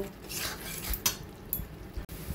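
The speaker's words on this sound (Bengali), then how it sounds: "এবার ভালো করে মশলাটা কষিয়ে নেব।" Spice paste for crab curry, with salt, turmeric, cumin and chilli powders, is stirred and fried in a pot, soft scrapes and clinks of a utensil over a quiet sizzle.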